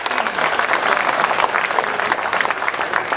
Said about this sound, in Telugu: అందరూ ఒకసారి ఆశాంతం ఆ చివరి నుంచి ఈ చివరి వరకు కూడా గట్టిగా చప్పట్లతోటి